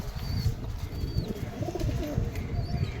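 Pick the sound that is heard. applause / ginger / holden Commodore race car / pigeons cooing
pigeons cooing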